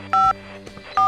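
A phone number is dialed in a Minecraft game: two crisp, loud keypad beeps, each a short electronic tone, separated by a brief pause with faint background sound.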